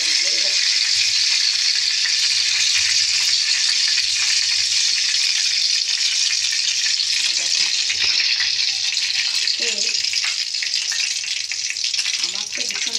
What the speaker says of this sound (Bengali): তেলটা টপর টপর টপর টপর করছে